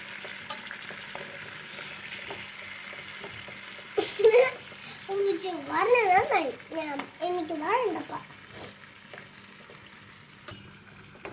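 Chicken sizzles steadily in a hot pan as it is flipped while cooking kuzhimandi; a voice talks over the frying for several seconds midway.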